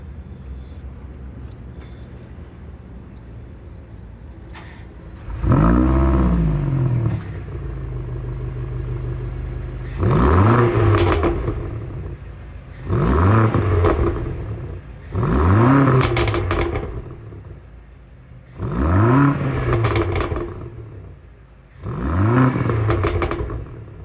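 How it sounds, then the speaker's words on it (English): A deep V8 exhaust on a 2025 BMW XM SUV revs six times in a row, each burst rising and falling back to a burbling idle, close and loud. "that exhaust sounds mean"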